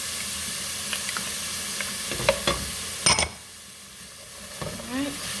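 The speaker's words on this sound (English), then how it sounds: "Onions, go right in with those peppers. And then right in with that celery." Chopped onions, peppers and celery frying in a pan, a soft steady sizzle with a few sharp spikes of ingredients dropping in and stirring, near and fairly quiet.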